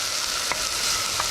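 Vegetables frying and browning in a camp pot, with chickpeas, small potato chunks and yam in it: a steady, close sizzle with a couple of brief stirring scrapes.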